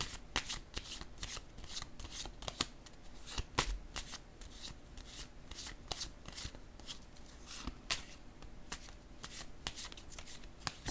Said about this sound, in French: Là, je vais déposer une carte sur le pardon